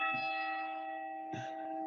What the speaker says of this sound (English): I'm just waiting until the bells ends.